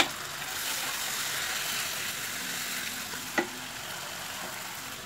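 Spice paste frying in oil for a cauliflower and potato curry as half a cup of water goes into the pan, producing a steady, fairly quiet hiss with one brief louder splash or clink partway through.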